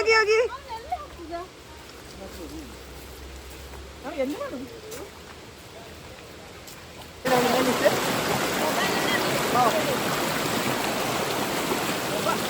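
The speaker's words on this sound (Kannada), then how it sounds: "ಹೊಳೆದು ಸೌಂಡ್ ಕೇಳ್ತಾ ಉಂಟು" Rushing water of a river stream flows steadily, louder in the second half, while children's voices and chatter sound over it.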